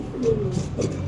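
A fancy pigeon coos in a short, soft, low burbling call, close by and fairly clear against quiet background noise.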